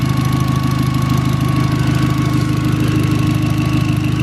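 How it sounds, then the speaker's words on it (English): A 2008 VW R32 with a V6 engine, AWD, about 201,000 miles and a downpipe fitted rumbles at idle through its exhaust, a loud, steady low burble with a rhythmic pulsing throb, close and without talk. "You can hear the exhaust."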